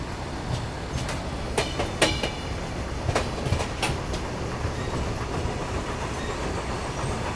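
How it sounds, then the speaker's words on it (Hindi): An AP Express passenger train moves from a loop line onto the main line, a steady rumbling roll with sharp clicks and clanks over points and rail joints, heard from on board. "अब हमारी ट्रेन लूप लाइन से मेन लाइन पे बढ़ रही है।"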